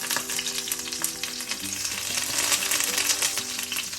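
Mustard seeds, split dried red chillies and curry leaves sizzle in hot oil as the tempering for a snake gourd thoran is made. The frying hiss is loud and continuous, and stirring scrapes can be heard under it.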